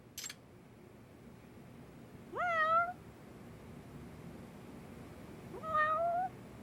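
A cat meows twice in the video game Lost Judgment, each a clear rising-falling call several seconds apart over a quiet background hum, preceded by a brief soft click.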